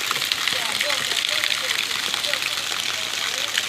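Heavy afternoon rain falls in a village in Jharsuguda district, a loud, steady, dense wash of drops with no distinct thunder rumble, along with a few faint thin chirps.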